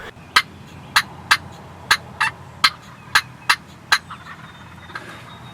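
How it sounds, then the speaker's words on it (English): Wild turkey gobblers in a spring field about 150 yards away, gobbling repeatedly: around nine sharp rattling calls spaced roughly half a second to a second apart over quiet outdoor background. "Gobblers soon appeared on the field about 150 yards from our ground blind, and they were putting on a show."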